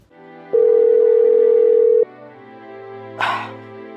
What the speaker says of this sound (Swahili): Bwana pokea simu.